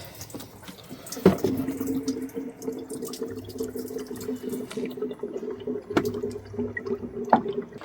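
Engine coolant trickles and splashes out of a bleed screw as air is purged from a car's cooling system on a TU engine. The flow is steady and close, with a few louder drips and splashes and no talk.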